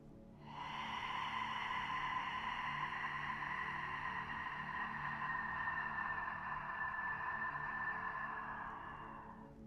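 A single long Ujjayi yoga breath is drawn through a constricted throat, a soft, even, ocean-like hiss that swells in and holds for several seconds before fading, heard alone in a quiet room.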